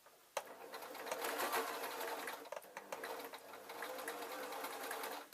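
A sewing machine runs steadily while stitching a tiny earphone case, a close, fast mechanical whirring chatter with a brief pause partway through before it resumes.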